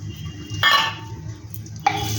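Whole cinnamon, cardamom, cloves and mace are stirred in a hot pan for aloo dum. Two short metallic scrapes of the spoon rasp against the pan over a low background hum.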